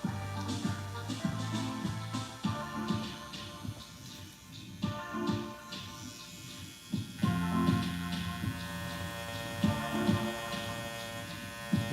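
CNC X-WE wireless tattoo machine shading on a pumpkin, a steady close electric buzz with rhythmic pulsing that pauses and restarts a few times.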